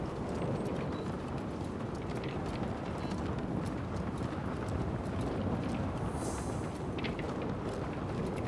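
Horse hooves clip-clop steadily in the action game Rise of the Ronin, a continuous galloping patter under wind and ambient game noise, with no speech.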